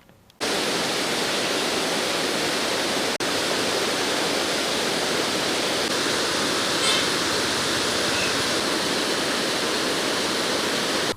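A Bharathapuzha river flooded after a week of monsoon rain rushes in a steady, loud, broadband roar that holds constant throughout, with no voices over it.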